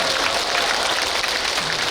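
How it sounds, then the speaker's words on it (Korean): An audience at a Buddhist dharma talk gives a burst of loud, dense clapping that fills the room evenly from start to finish. "박수 한번 크게."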